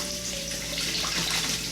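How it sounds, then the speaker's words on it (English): A tap runs steadily while a baby is bathed, a continuous hissing stream of water close by with faint splashes. "let me leave the water on"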